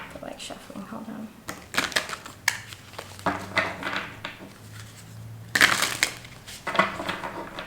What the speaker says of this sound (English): I feel like shuffling, hold on.